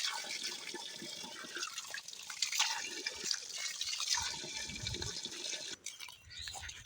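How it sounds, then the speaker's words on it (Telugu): Water splashing and sloshing continuously as crabs are rinsed by hand, with gurgling pours and small drips, close up. "ఇప్పుడు పీతలు కడిగేసుకుంటున్నాం నీటికి కడుక్కోవాలి"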